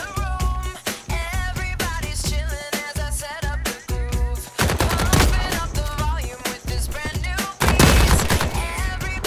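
Rapid bursts of automatic gunfire in the video game The Cycle: Frontier, loud and close, firing in repeated stuttering volleys with brief gaps between them.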